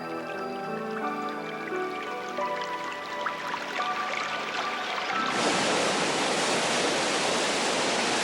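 Water running from forest soil, a steady broadband rush like a stream or small waterfall, growing noticeably louder and fuller partway through after a quieter, more tonal opening.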